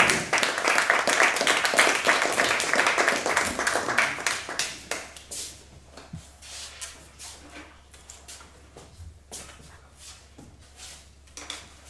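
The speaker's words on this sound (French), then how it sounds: "Sous les applaudissements." Audience at a French student debate competition breaks into loud, dense applause that gradually thins to scattered individual claps and fades out.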